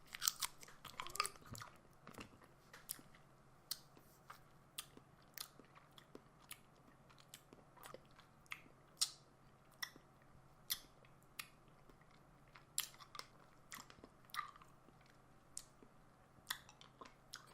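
Someone crunches and chews a black cherry hard candy, producing faint, irregular bites and clicks close to the mouth over a quiet background.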